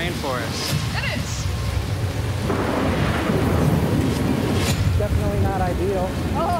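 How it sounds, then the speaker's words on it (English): Wind gusts through a rainforest in a broad, rushing roar under an incoming storm, with scattered voices and brief sounds cutting in over the steady noise. "I can hear the wind blowing."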